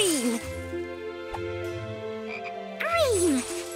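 A cartoon frog in a children's colour-learning show croaks in several loud, close, warbling calls with pitch sweeps, alone with no talking.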